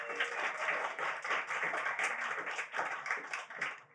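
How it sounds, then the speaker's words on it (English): Audience applause at a community conservation talk, a steady wash of many hands clapping at close range, sustained and even for the whole stretch with no voices over it. "Big round of applause"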